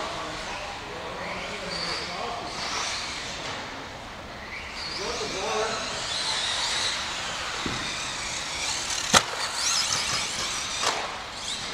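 An Associated B74.1D electric RC buggy running laps on a dirt track, its motor whine and tire scrabble rising and fading as it passes, with a sharp impact click partway through.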